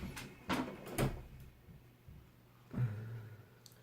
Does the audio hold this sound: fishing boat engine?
no